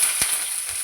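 Onions, green chillies, garlic and curry leaves frying in hot oil for a bitter gourd fry, a steady close hiss and sizzle with a brief stir clatter, no talk.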